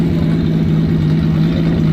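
A car engine, a Japanese import, runs steadily at a car shop, with a loud continuous low hum and a strong steady tone, holding even throughout with no clear rev rises and no talking.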